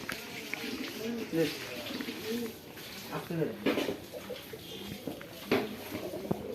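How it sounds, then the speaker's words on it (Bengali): Pigeons cooing at a family pigeon farm housing fifty to sixty breeds, including small Jalali pigeons; soft, low cooing murmurs repeat throughout under frequent nearby talking and background farm noise. "এটা আমার মামার নিজের হাতে গড়া কবুতরের খামার সে প্রায় পঞ্চাশ ষাট রকমের কবুতর আছে"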